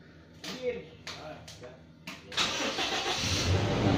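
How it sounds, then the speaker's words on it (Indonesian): Several short cranking bursts, then a car engine catches and keeps running with a steady idle, close by. "Jadi mesinnya kita hidupkan, kita dengarkan suaranya"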